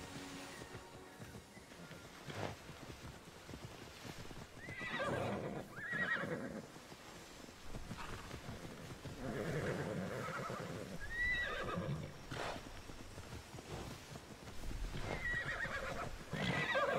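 Horses in the video game Immortals Fenyx Rising whinny several times over a steady clip-clop of hooves, moderately loud and close, with a few quieter stretches between the neighs.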